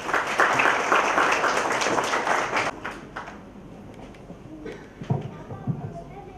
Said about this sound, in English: So give a huge round of applause